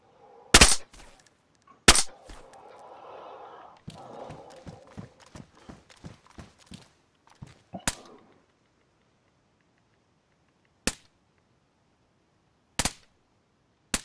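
Gunfire in the video game DayZ: sharp single shots and a rapid burst of cracks, with a few spaced lone shots afterwards against a quiet background.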